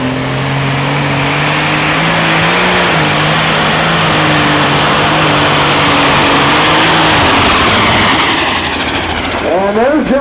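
Tractor pulling engine at a Pro Pulling League event in Hillsboro, Wisconsin, roaring loud and close in a sustained, wavering rev, then cutting off near the end with a brief rattle.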